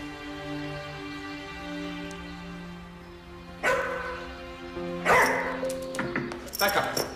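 A dog barks in short sharp bursts at a front door as a visitor arrives, three or four loud close yaps in the second half over background music and voices.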